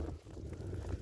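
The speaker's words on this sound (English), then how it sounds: "That wind is brutal." Steady wind buffeting a microphone outdoors in cold weather at Silver Lake, Oregon, a low, rumbling roar with gusty swells that never lets up.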